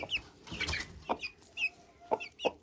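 Belgian partridge gold hen clucking in a breeding pen, a run of short soft clucks and chirpy calls at close range, spaced irregularly with brief pauses between them.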